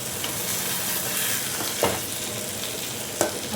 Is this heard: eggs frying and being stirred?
yes